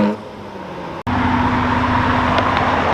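Ferraris, including an Enzo and an F40, leave a festival in Houston with a steady car-engine drone that breaks off for an instant near the first second, then returns as a strong sustained hum.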